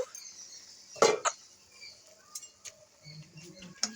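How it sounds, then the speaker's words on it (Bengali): A lid comes off a pot of raw hilsa curry with pumpkin and beans, giving a sharp metallic clank and a quick second clink, followed by faint scattered taps in a quiet kitchen. "এবার আমি ঢাকাটা খুলে দেখে নেব"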